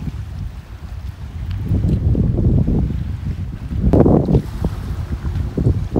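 Strong wind gusts buffet the microphone at a lakeside fishing campsite by a dam, a steady low roar with louder surges, with no talking.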